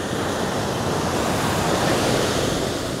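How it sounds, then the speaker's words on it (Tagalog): Strong surf pounds the shore at Indira Beach House in Botolan, Zambales, under cloudy, unsettled weather, a dense continuous roar of waves with wind rumbling through, loud and close with no talk. "Malakas yung alon kasi parang hindi masyadong maganda yung panahon ngayon"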